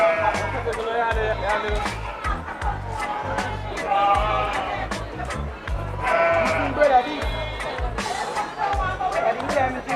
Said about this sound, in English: Massive ram goat.